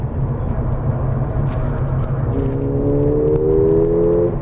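A Mercedes-AMG GT driven on a test run, its engine holding a steady loud drone and then rising in pitch as it pulls harder, heard from inside with no talking.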